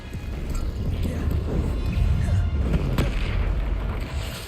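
A Bombarda spell blast from Hogwarts Legacy rumbles as a dense, sustained low boom with crackling debris, loud and continuous through the moment, a voice briefly audible beneath it.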